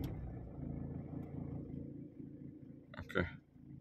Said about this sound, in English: Let's put the key inside and start the car.